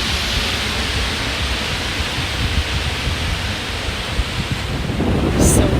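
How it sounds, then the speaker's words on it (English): Strong wind buffeting the microphone with big waves crashing at Hollywood beach, Florida: a loud, continuous roar of surf and gusts, filling the whole clip with no clear voices. "So windy and big waves today."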